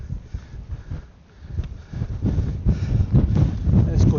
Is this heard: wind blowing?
yes